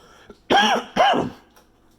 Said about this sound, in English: I'm only coughing because I just got done cooking with some cayenne pepper